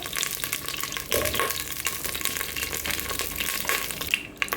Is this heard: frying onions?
yes